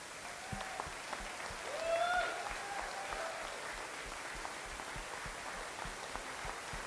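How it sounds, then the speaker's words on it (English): Audience applause at an art prize closing gala and awards night, a steady soft patter of many hands that swells briefly then holds at a moderate, slightly distant level with a few tonal bits of sound over it. "Keep going, keep applauding"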